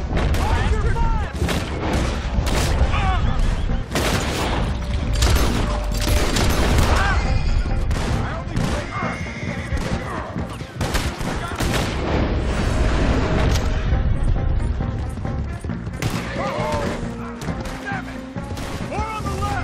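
Dense gunfire fills a Red Dead Redemption 2 shootout: heavy booming shots and rapid volleys crash continuously and loudly with almost no pause, with voices shouting beneath the barrage.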